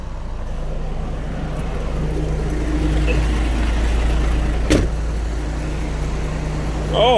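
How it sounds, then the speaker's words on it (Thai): A vehicle engine idles steadily with a low, continuous rumble close by, with a sharp knock partway through and faint background sounds. "พี่น้องยังไม่ดับเครื่องเลย"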